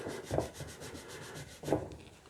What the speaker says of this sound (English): Polish the fret up